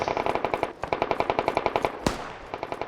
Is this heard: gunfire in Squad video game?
yes